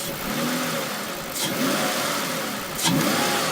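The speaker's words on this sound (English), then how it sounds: "Whenever I rev it, I can hear a swooshy sound." A car engine with a modified throttle body revs up twice, each rise bringing a breathy, swooshing intake rush over the steady mid-pitched engine drone, heard up close.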